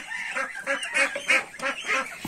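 Geese on a farm honk repeatedly in a quick series of nasal calls, fairly close and alone, about six honks over a couple of seconds.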